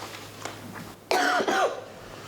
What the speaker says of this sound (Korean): 연습이 시작되자 기침이 멈추지 않는다.